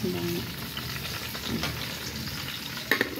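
Steady oil sizzle of tilapia frying in a pan, continuous and close, with a brief clatter near the end.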